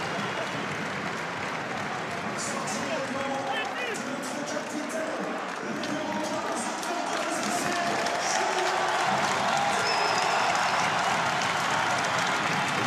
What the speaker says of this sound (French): Le public de Castres se lève pour applaudir la sortie de Julien Dumora.